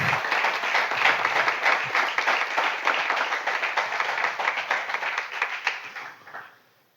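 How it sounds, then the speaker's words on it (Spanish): A church congregation applauds together in a dense wave of clapping that holds steady for several seconds, then fades out to silence. "Dele un aplauso al Señor."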